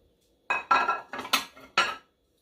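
A set of four Park Designs microwave- and dishwasher-safe dishes handled and set against each other, giving about five close, bright ceramic clinks in quick succession after a moment of silence.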